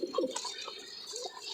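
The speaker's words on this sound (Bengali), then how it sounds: "এখানে এই যে নর কবুতর ন ডাকছে" A male Giribaz pigeon gives short, soft cooing calls close by, a few low throaty notes amid faint background noise.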